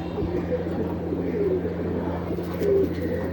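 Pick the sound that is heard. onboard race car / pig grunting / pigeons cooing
pigeons cooing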